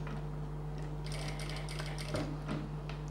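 A sewing machine stitches around a boat neck, a fast mechanical chatter in short bursts of a few stitches over a constant low motor hum, heard up close with no talking.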